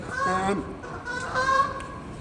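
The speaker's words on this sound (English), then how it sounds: "Being heckled by geese, that's not right." Geese honk twice, near and fairly loud, each call a short, nasal, wavering burst over steady background noise.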